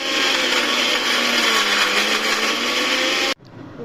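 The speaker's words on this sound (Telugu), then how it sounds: "ఆ వేయించిన దాన్ని చల్లారిన తర్వాత ఇదిగో ఇలా మిక్సీ చేసుకోవాలన్నమాట." A kitchen mixie whirs at a loud, steady pitch as it grinds roasted sesame, coriander seeds, cumin and dried red chillies, then stops abruptly near the end.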